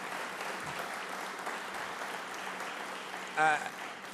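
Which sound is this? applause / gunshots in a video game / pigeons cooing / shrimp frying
applause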